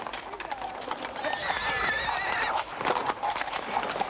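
Horses neighing in a tug-of-war demonstration, with a high whinny rising mid-clip over a busy background of hoof clatter and crowd noise, while a voice talks over much of it.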